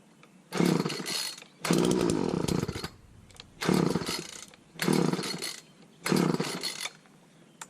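A walk-behind weed eater trimmer's small gas engine is revved repeatedly, producing five loud, rough bursts of about a second each, separated by drops back to a quieter idle, close to the listener, with no talking.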